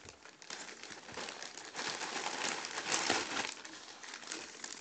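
Parcel packaging is torn open and crinkled close by in a continuous stream of rustling, crackling bursts at moderate loudness for about five seconds, with no talking.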